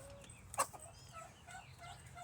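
Egg-laying backyard chickens give a short, soft cluck or squawk near the start, then faint low clucking and rustle carry on quietly for the remaining couple of seconds.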